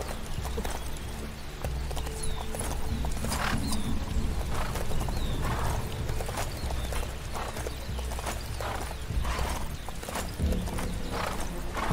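Horse hooves clip-clop steadily in the video game Lego Marvel Super Heroes 2, a rhythmic walking gait close by, with occasional neighs and whinnies over a low background hum.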